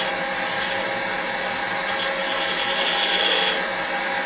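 A wood lathe turns a pen blank on bushings while a skew chisel shapes a small decorative bead at the end, giving a steady, close, continuous high scraping hiss with no talking.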